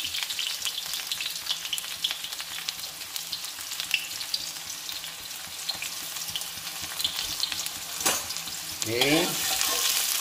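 Onion and garlic sizzle in hot oil while being stirred, a dense, steady crackle with scraping strokes near the end. A voice speaks once, briefly.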